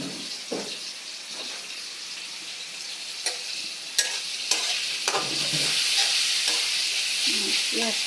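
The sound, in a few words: chopped onions frying and being stirred in pan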